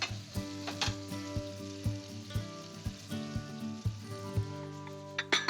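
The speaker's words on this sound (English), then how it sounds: "Let's put the raisins in. And we'll let this cook away." Raisins and cauliflower sizzle steadily in a hot pan for rigatoni with saffron, a constant close frying hiss broken by regular clinks and scrapes of stirring.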